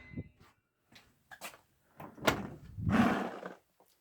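Someone locks a C.H.I. garage door up close. Scattered clunks and taps lead into a sharp knock and a longer scraping, sliding rattle, and then it goes quiet.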